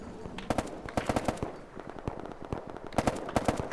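Rapid gunfire from another player in ARMA 3 crackles in short automatic bursts at moderate distance, sharp repeated cracks spaced across several seconds with quieter ambient noise between them.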